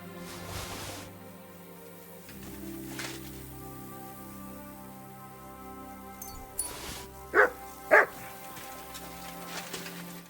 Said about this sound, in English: What were you barking at over here?